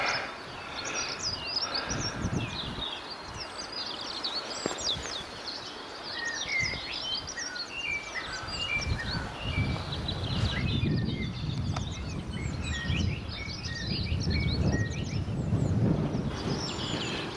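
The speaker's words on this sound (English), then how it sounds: "Birds singing." Birds sing and chirp continuously near a rural heritage railway station, many small calls overlapping at moderate distance over a bed of wind and rustling, with low traffic rumble surging in the background.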